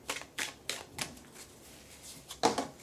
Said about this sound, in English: We're going to shuffle, shuffle,